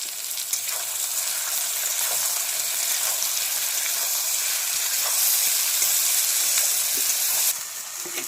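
Pounded spices sizzle and fry steadily in a hot pan for a jackfruit curry, a continuous hiss that swells slightly near the end before dropping off.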